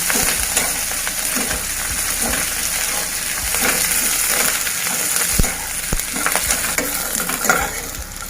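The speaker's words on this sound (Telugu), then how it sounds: "కొద్దిగా కరివేపాకు వేసి మనకి గోల్డెన్ బ్రౌన్ కలర్ వచ్చే వరకు ఫ్రై చేసుకోవాలి బాగా" Raw banana slices and curry leaves fry loudly in hot oil, a dense, continuous crackling sizzle broken by sharp stirring scrapes and pops, close up, with nobody speaking.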